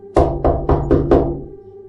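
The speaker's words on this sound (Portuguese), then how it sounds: "Eu estava preparando um chá quando ouvi batidas na porta." Five firm knocks on a door in quick, even succession, close and loud, then a short fading resonance.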